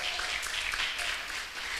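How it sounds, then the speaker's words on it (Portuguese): Applause from a church congregation during a Wednesday evening worship service, a steady, fairly faint wash of clapping that fills the short moment without pause. "Dá um aplauso, senhor, fala, glória a Deus."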